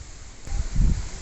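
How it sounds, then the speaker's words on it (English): Wind blowing outdoors and buffeting a microphone, a steady rumbling roar that swells in low gusts, loud and close. "it's a bit windy, so I hope you can hear this."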